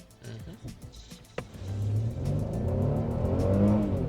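A Mercedes E400 W213 E-Class pulls away from a standstill in sport mode, its engine note building from a low idle into a steady, rising drone of acceleration after a few quiet clicks and brief voices.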